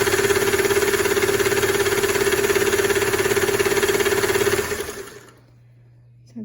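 A Singer 328k sewing machine runs a decorative stitch with a steady, rapid mechanical chatter, loud and close, before winding down and stopping into near silence, with a faint voice under the motor.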